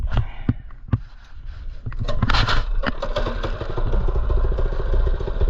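Mini bike engine running while riding, a steady low rumble with a rusty frame clattering, starting with a few sharp knocks and then growing to a continuous loud drone.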